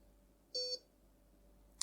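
A BTR 6S 50A brushed ESC with current limiting, built for combat robots, gives one short, clear electronic beep after its battery is connected, followed by a faint tick at the very end.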